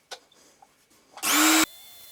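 A power tool grinds a Nikkor lens aperture ring in one short, loud burst of roughly half a second, close up, following a few faint handling clicks.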